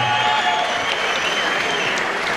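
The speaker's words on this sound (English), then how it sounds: "Give a big round of applause for Michael Pretty Boy Zerafa." Steady, dense crowd applause fills the arena after a boxing bout, a continuous wash of many hands clapping at close range with no break.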